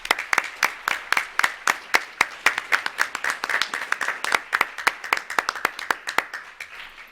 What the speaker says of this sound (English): One more round of applause, please, as they leave.